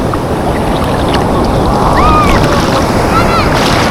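Pacific Ocean waves give a steady, loud roar of surf mixed with heavy wind buffeting the microphone, continuous throughout.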